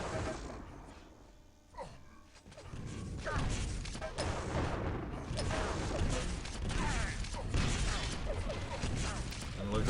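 Rocket launcher fire in a Quake CPM duel: repeated blasts and whooshing explosions pile up densely, mixed with other game effects and steady noise, loud and continuous after a quieter start.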